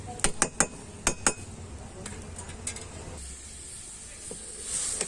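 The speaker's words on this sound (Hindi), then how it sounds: "और हम इसमें इसे अच्छे से चम्मच चलाते हुए अच्छे से भून लेंगे।" A metal spoon clinks and scrapes in a pan as yam (suran) curry is stirred and fried with curd, with a handful of sharp close knocks early on over a low sizzle, then quieter hissing.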